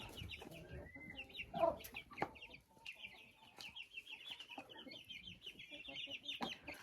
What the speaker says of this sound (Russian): Цыплята Амераукана тоже получили картошку.